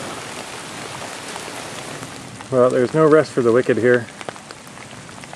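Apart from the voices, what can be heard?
rain falling on a canoe campsite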